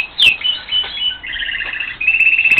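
Small birds chirp and tweet inside a quarantine room for newly arrived birds, a run of bright, high, repeated calls, some rapid and trilling, close and fairly loud with no talking.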